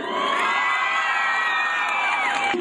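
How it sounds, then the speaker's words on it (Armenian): A large crowd on a town square in Vanadzor, Armenia, cheers loudly at a concert, with a continuous roar of shouts, whoops and high voices that stays close and intense throughout. "Վանաձոր քաղաքը սիրում է և շատ բարձր ծափահարում է"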